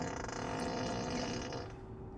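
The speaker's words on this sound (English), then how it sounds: "You've got the fart button, which is really cool." A Tesla Model Y's built-in fart sound effect from the toolbox menu plays as one sustained, buzzy, flapping rasp lasting about two seconds, loud and close, fading slightly at the end.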